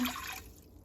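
A short splash of water pours into a pot for pickling brine and stops quickly, close and fairly soft, with no talking.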